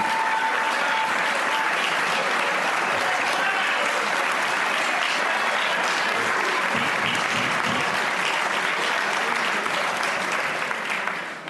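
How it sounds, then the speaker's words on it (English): Sustained, loud applause fills the chamber during the 2017 Virginia State of the Commonwealth address, a dense unbroken wash of handclapping lasting over ten seconds. "Thank you guys for clapping for TAG."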